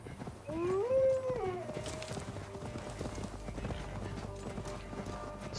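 Horse galloping in the video game Assassin's Creed Valhalla: steady, rhythmic hoofbeats run throughout, with a rising whinny near the start over a continuous game soundscape.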